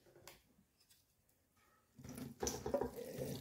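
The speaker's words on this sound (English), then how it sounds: "Pour everything in there." Liquid pours from a container into stuffing mix in a large bowl, a splashing, watery rush that starts after a quiet moment and runs steadily to the end at close range.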